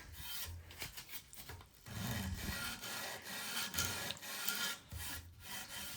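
Paint is sanded off wooden inner profiles by hand, a close, steady rasping rub in repeated strokes with brief pauses.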